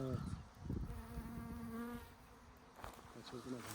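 A honey bee works wild yellow clover flowers outdoors, its close, wavering wingbeat buzz rising and dipping continuously at low volume.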